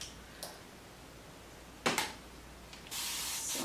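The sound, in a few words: spray bottle spraying water on hair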